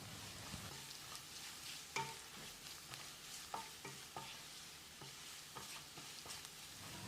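Spices stir-frying on low heat in a hot pan for fish masala fry, a steady sizzle broken by scraping and tapping of a spoon against the metal, close and moderately loud, no talking.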